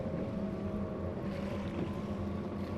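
A P1 SuperStock racing powerboat with Mercury 300 XS Optimax engines drones steadily across open water, its outboard hum continuous and moderately distant with wind rushing over the microphone.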